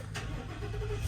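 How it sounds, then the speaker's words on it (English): Engine of a 2021 Jayco Redhawk 31F motorhome starting up, heard as a low, steady rumble that is fairly faint and close, rising slightly at the end, with no talk. "First thing I'm going to do is I'm going to start this engine"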